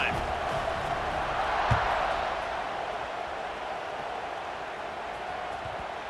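A stadium crowd in the college football video game NCAA 26 keeps up a steady, broad roar with a brief swell and a few thumps, while a commentator talks over it.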